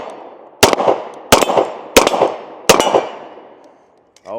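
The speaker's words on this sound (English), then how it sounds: "let's go ahead and take a few more shots with the Kimber Raptor in 10mm" Four loud gunshots from a Kimber Raptor 1911 pistol in 10mm, sharp cracks spaced roughly evenly with short echoing tails outdoors, followed by a faint rustle.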